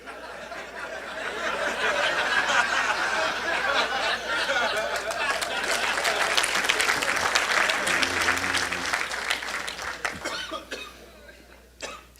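Audience at a Brazilian ethics lecture breaks into sustained, loud applause from a crowded hall, with scattered coughs and murmured chatter mixed in before the clapping tapers off.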